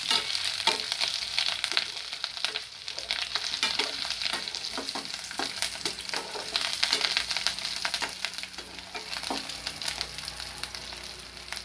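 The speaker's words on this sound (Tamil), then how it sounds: "நல்லா வெங்காயம் எல்லாம் வணங்குற வரைக்கும் வணக்கணும்." Onions sautéing in a pan for Indian brinjal thokku: a steady, close sizzle and crackle of frying with repeated scraping stirs throughout, no voices.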